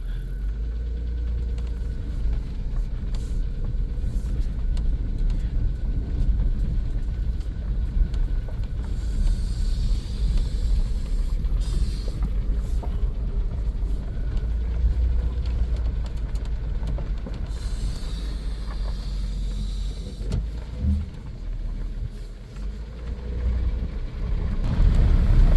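A 1993 Plymouth Grand Voyager SE, brought back to life after 18 years abandoned, runs rough while its transmission works through the gears. A low, continuous engine rumble is heard up close, with shifts in load and a swell near the end.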